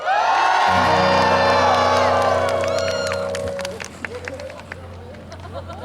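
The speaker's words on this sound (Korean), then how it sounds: "다시 한번 열정적인 함성 한번 크게 한번 질러주실래요?" A concert audience cheers and shouts loudly, a dense sustained roar of crowd voices with whoops, easing slightly toward the end.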